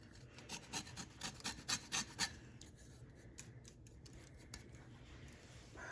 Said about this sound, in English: Then you want to go ahead and just add a little bit more zest over the top.